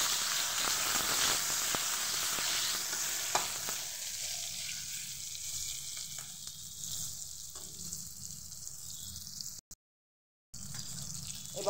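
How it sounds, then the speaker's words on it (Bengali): Eggplant slices fry in hot oil with a steady close sizzle and crackle that fades to a softer hiss, broken by a brief silent gap near the end. "তেলটা গরম হয়ে গেছে, এবার আমি বেগুনগুলোকে ভেজে নেব।"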